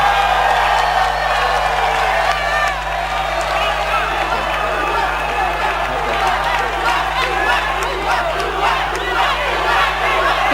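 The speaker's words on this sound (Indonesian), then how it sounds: "saya persilahkan tepuk tangan untuk para paslon" A large crowd at a Jakarta gubernatorial candidates' debate applauds and shouts for the candidates, a continuous loud roar of cheering and yelling with clapping mixed through it and a steady electrical hum underneath.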